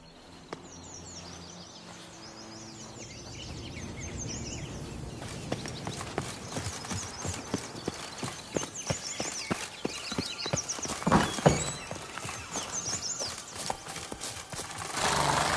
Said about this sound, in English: run, Roach. Faster